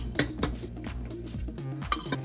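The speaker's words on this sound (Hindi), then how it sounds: "इसके बाद चला देंगे सब्जी।" Vegetables with masala stirred in a metal pan, a quick series of sharp scraping clinks from a spoon against the pan, fairly close and rhythmic, with no talking.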